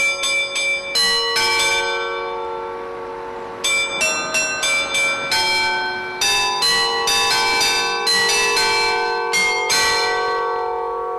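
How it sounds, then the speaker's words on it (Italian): A carillon plays the Piave anthem, clear struck bell notes ringing in a melodic sequence with overlapping sustained tones, fairly loud and unaccompanied by voices. "Il carillon che suona l'inno del Piave 3 volte al giorno"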